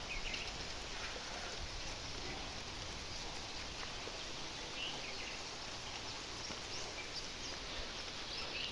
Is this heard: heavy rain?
yes